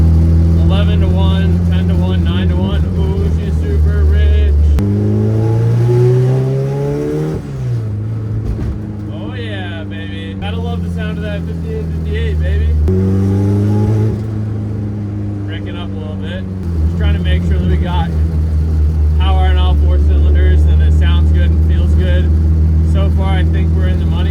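A fully built Honda Civic fitted with a big turbo, unable to hold idle, revs up and down on the throttle in repeated rising and falling sweeps, loud and close, with talk over parts of it.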